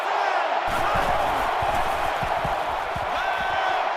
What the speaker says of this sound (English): The crowd at this stadium, always a factor in a football game.